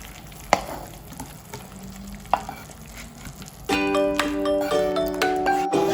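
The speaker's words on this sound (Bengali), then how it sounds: "এর মধ্যে অ্যাড করব সামান্য একটু গরম মশলা। এটাকে হাই হিটে আমরা মিক্স করে নেব।" Garam masala stirred into hot separated oil over high heat, a quiet sizzle with a couple of sharp spoon clinks, then a louder, steadier frying crackle.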